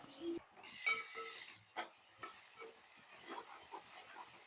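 Green chillies and curry leaves drop into hot oil with browned onions for a Telugu chicken methi curry, a sudden sizzle and spatula stirring scraping at close range, alone without talk.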